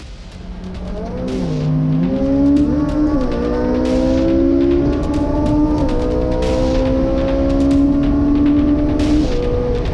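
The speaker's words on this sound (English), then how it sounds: "Kyle, seriously, you know how important it is to look at the road when you're driving a car like this, Kyle?" Supercar engine droning steadily while driving, rising and shifting in pitch with gear changes, loud and close throughout, with no voices.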